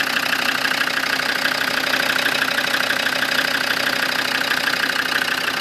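A Land Rover Defender with a TD5 diesel engine idles steadily while warming up after EGR valve removal, a constant close, even engine drone with light knocking texture and no talk.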